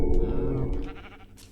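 A blocky sheep in the Xbox 360 edition of Minecraft gives one loud, close bleat that trails off over about a second.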